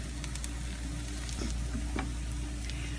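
Onions caramelizing in a hot frying pan give a steady, even sizzle and crackle throughout, with a few faint clicks of stirring and no voice.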